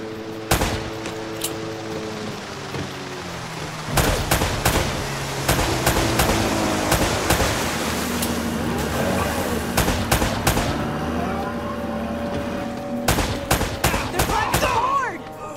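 Bursts of gunfire crackle through a firefight in Uncharted: Drake's Fortune, sharp repeated volleys of shots spread across the scene with clusters of rapid bangs and brief lulls between them, loud and close.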